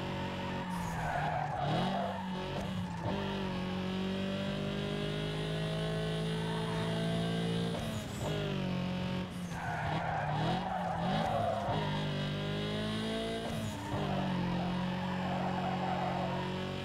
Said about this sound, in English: This game has so much tire noise.